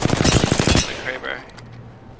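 A Kraber sniper rifle from Apex Legends fires: a loud, dense volley of sharp gunshot cracks in the first moment, then a decaying tail with faint game effects and a low hum.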